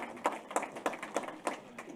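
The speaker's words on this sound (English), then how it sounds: "Can we give another round of applause to Ronnie, please?" Sparse, rhythmic claps at a business conference session, about six distinct evenly spaced hand claps at moderate volume with faint room ambience between them.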